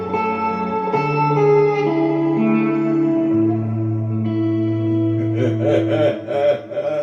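Sustained guitar notes through a Mr. Black Bloodmoon reverb pedal ring out with a wide, shimmering reverb tail that washes and blurs together, growing busier and more textured near the end.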